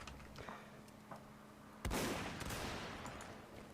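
A cannon fires in a Mount & Blade North & South mod line battle, giving one sudden, close, heavy blast with a rolling tail. Faint scattered shots and battle noise are heard before it.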